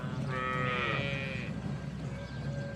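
A single cow moos nearby, a drawn-out lowing call lasting about a second, followed by quieter farmyard background.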